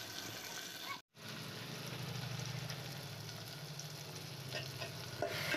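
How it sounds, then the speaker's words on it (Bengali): Tomatoes and ginger fry in oil in a pan over a clay stove, giving a steady close sizzle with soft stirring and scraping and a brief gap partway through. "দিয়ে দেওয়ার পর টমেটোটাও আস্তে আস্তে ভাজা হয়ে যাবে, একটু গলে যাবে আর কি।"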